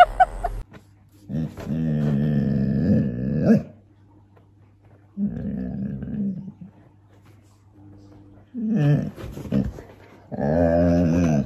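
A dog growls in three long, harmonic bouts with pauses between, loud and close, likely from a pet in a funny animal compilation, with a few brief sounds between bouts.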